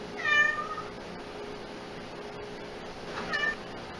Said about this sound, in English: Holy fuck, cats.